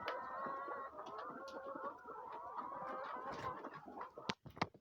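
Chickens clucking inside a chicken coop, a quiet, continuous chorus of overlapping clucks and calls with a few sharper close knocks near the end.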